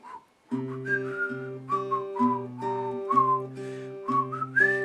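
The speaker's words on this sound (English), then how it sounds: "it goes back into the whistling" A whistled melody of steady, clear notes from a song, moving up and down in short phrases over a sustained low guitar accompaniment, with no talking.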